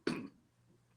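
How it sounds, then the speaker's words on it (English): A single close cough, loud and short, from a man who has been sick, followed by quiet and a faint breath at the end. "Sorry about the coughing, folks."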